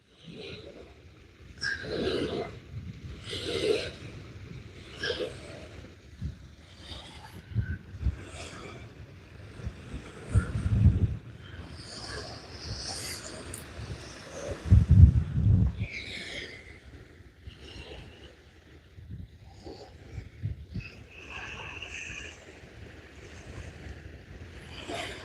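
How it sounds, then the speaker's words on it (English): Wind gusts across Cochiti Lake in New Mexico during fishing, rumbling and buffeting the microphone in strong low bursts, with water lapping and a boat creaking faintly in between. "Just wish this wind would let up a little bit."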